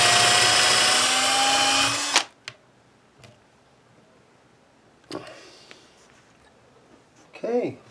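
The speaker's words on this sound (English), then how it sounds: "Re-drill them all." Power drill re-drilling screw holes for a replacement guitar neck on a partscaster, a loud whining burst of about two seconds, then quiet handling clicks and a few soft bumps.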